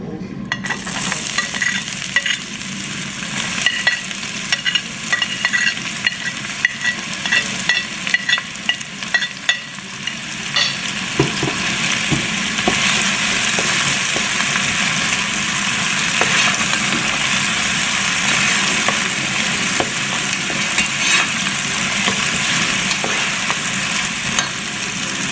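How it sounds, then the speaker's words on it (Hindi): Chopped onions sizzle steadily in hot oil for a vegetable curry, with a spoon scraping and stirring through the pan; the frying grows louder and denser after the first ten seconds. "अभी इसमें मैं डालूँगी चॉप हुए प्याज।"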